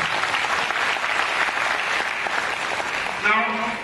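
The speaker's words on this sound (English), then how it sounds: "Give a round of applause to it." An audience gives a round of applause at a talk, a dense steady wash of clapping that holds throughout and ends with a brief voice near the close.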